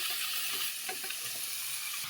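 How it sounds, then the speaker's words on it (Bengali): Cucumber and shrimp curry sizzles in a pan while being stirred, a steady bright frying hiss with a few soft scraping strokes, close and without talk. "এবার ভালো করে আমি একটু নেড়ে নেব"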